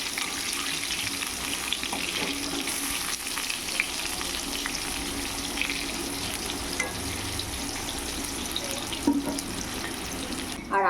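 Brinjal slices frying in a pan, with a steady close hiss of hot oil running through the whole stretch, fairly loud and even, broken only by a few faint scrapes.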